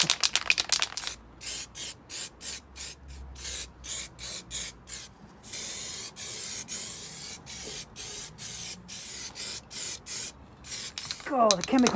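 Anti-gravel coating sprayed from an aerosol onto the base of a car wing during a restoration, heard as repeated hissing bursts of varying length with short pauses between, fairly close and loud.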